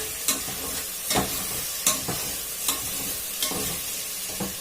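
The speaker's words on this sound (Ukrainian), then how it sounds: "Так, грибочки мої смажаться." Mushrooms sizzle steadily in a hot pan, with a spatula scraping and stirring at regular intervals about every second.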